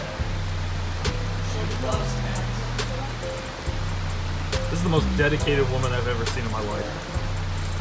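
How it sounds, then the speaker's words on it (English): Heavy rain pours steadily at an outdoor tennis venue, a constant hiss under people talking and a low hum, with occasional louder drips. "You can see how hard it is raining."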